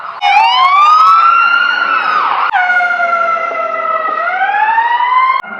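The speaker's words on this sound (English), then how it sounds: "Oh, ambulance time." A loud ambulance siren wails nearby on a street in Cedarburg, Wisconsin, its pitch sweeping up and down in long continuous cycles, with no other sounds competing.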